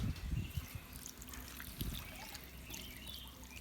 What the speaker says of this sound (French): Ensuite, nous mettons de l'eau